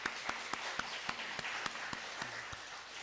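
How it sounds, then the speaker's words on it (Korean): A church congregation claps in a steady, regular rhythm after a sermon, fairly faint and slightly distant, with sharp evenly spaced claps standing out over the room. "여러분 박수 한번"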